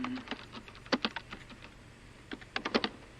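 Typing on a computer keyboard, with quick, irregular key clicks close to the microphone over a faint background hum and no speech.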